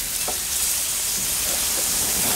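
Oiled peach halves sizzle on a hot Weber Q grill, a loud, steady hiss with faint crackles and pops running throughout, close up and alone.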